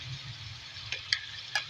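Two tablespoons of garlic fry in a pan for beef koila karahi with a steady, close sizzle, punctuated by a few light clinks of stirring.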